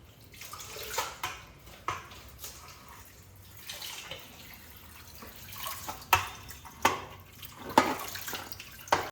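Leafy greens (dill, fenugreek and amaranth stems) being washed in water to remove soil, with quiet splashing, swishing and dripping in irregular bursts, close and fairly soft.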